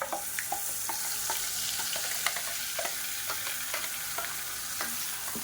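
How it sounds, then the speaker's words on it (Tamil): Mustard seeds and curry leaves spluttering in hot oil for a pepper chutney: a constant close sizzle broken by frequent sharp popping crackles, with no voices. "இப்போ பாருங்கள் கடுகு கருவேப்பிலை நல்லா பொரிய ஆரம்பிச்சிருச்சு"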